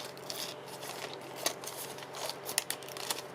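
Scissors snip through a thin plastic cereal liner bag, a series of close, crisp cuts with rustling crinkles between them.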